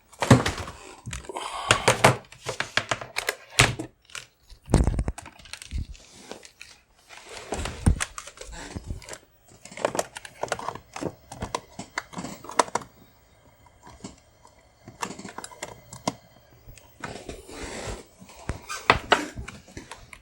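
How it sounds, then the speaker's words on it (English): Rapid bursts of laptop keyboard typing, clattery key clicks in irregular clusters with short pauses between runs, close and fairly loud with no talking. "I can't even type with my laptop keyboard."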